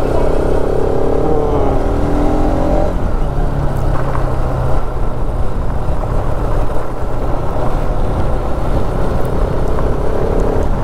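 A six-gear motorcycle engine runs steadily and loud through the whole ride, with a constant drone and some tonal shifts near the start, on the road from Bardhaman to Bakreshwar Dam in Birbhum.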